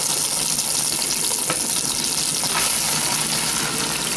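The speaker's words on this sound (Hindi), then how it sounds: "इसके अंदर अब मैं डालूँगी अपनी जो कटी हुई प्याज" Chopped onions frying in ghee in a karahi, a steady broadband sizzle filling the whole stretch, close and fairly loud, with a couple of faint clinks or stirs and no talking.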